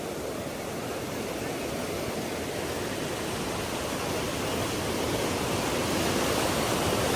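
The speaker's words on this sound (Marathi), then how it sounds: "पाण्याला खूप फोर्स आहे" The Barvi River rushing forcefully on a foggy morning: a dense, steady roar of turbulent water that holds an even loudness throughout, with no voices.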